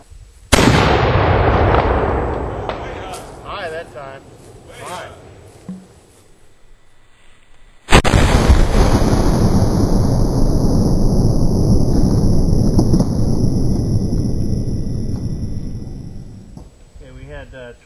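A howitzer fires a round outdoors, two heavy booming blasts each followed by long rolling decay and echo, loud and close, with speech present.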